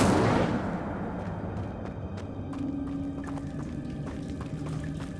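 A fire spell cast in Hogwarts Legacy gives a loud burst at the start, fading into a crackling, rumbling burn with scattered small pops that carry on steadily.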